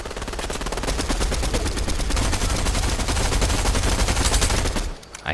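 Rapid automatic gunfire in a video game rattles on continuously and loudly for several seconds, then cuts off abruptly near the end.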